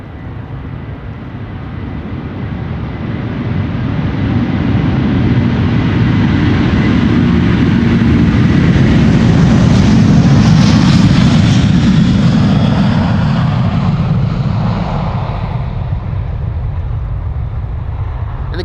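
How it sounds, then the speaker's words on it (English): A 17-year-old Delta Airlines Airbus A330-300 departing Amsterdam Schiphol spools up into a deep, loud, continuous jet-engine rumble that swells toward the middle and slowly eases as it passes close by. "that rumble of that A330 just now passing by"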